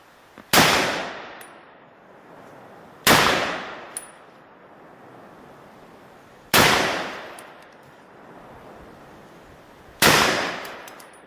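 A WWII M1 Garand rifle fires .30 caliber M2 armor-piercing black-tip rounds at a bulletproof barrier panel, four loud, sharp gunshots spaced a few seconds apart, each with a short ringing decay.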